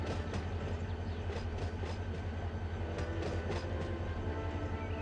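A locomotive-hauled train being eased into a parked position in the Run 8 train simulator, a steady low rumble of engine and rail noise with faint clicks, continuous and fairly close, no talking.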